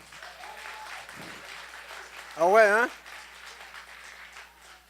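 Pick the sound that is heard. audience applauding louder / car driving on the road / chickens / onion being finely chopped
audience applauding louder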